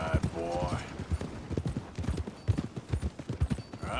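In Red Dead Redemption 2, horse hooves clip-clop at a steady walking rhythm, close and clear, with a voice talking over the footfalls.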